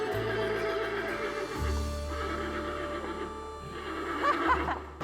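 A Clydesdale draft horse lets out a loud, close whinny that rises and wavers for several seconds over a low steady hum, ending in a short breathy snort.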